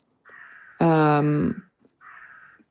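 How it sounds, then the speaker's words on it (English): At Kistefos, a bird calls in short, harsh bursts, one long strident cry between two briefer ones, loud and clear with no other sound around it. "I don't know if you can hear that bird in the background"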